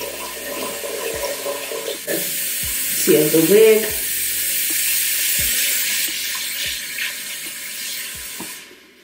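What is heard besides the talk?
filling a sink with water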